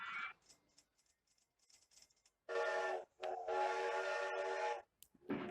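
A mini train ride in Rollercoaster Tycoon Classic sounds a series of loud, tonal whistle blasts, with quieter chuffing and rattling between them.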